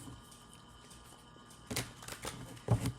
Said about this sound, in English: Give these a good ruffle shuffle again.